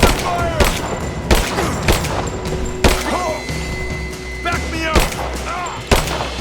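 Gunshots ring out in Rise of the Tomb Raider as sharp, evenly spaced bangs about once a second, some with echoing tails, while a character shouts between them.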